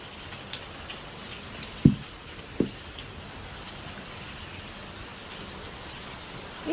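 Steady rain falling over potted plants such as mulberry set outdoors, a constant soft hiss with a few sharper nearby drip ticks standing out.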